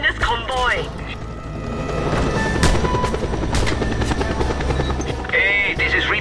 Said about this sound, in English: Grapple onto the chopper, comrade, and he'll take you to the witness convoy.